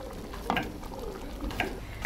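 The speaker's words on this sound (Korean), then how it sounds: "참기름을 두르고 달달 볶다가 걸쭉하니 고소하라고 현미가루를 개서 넣습니다" Steamed rice fries in sesame oil in a pan for Korean rice porridge, a soft, steady sizzle with a few light scraping stirs of a spoon at intervals, quiet and close.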